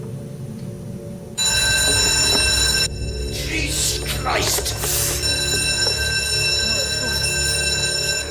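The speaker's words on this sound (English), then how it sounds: "What sounds like a fire alarm has gone off." A loud electronic fire alarm suddenly starts ringing continuously and steadily inside Tamworth Castle, with a startled voice exclaiming over it.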